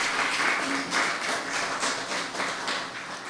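A small audience claps in a brief, scattered burst of applause at an indoor public event with a New Jersey official, the claps fairly close and thin, with no voices over them.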